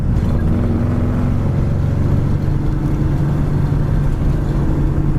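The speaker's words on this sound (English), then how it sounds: "Dual exhaust sounds great." A 1955 Ford's engine idles with a deep, steady dual-exhaust rumble, loud and close, holding an even throb throughout with no talking.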